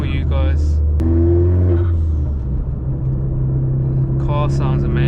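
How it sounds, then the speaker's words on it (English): A Vauxhall Corsa VXR fitted with a 3-inch Cobra exhaust, induction kit and dump valve drones loudly on the move, its engine note rising and easing, with brief talking at the start and end. "Car sounds amazing. 3-inch exhaust, Cobra, and then obviously induction kit, dump valve, all of that sounds really good."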